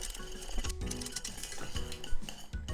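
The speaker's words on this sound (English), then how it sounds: "you just want to keep mixing like this" A utensil keeps scraping and clinking against a pot as custard for taiyaki is stirred over heat and thickens. The knocks and scrapes come in an irregular rhythm, close and moderately loud, with no talking.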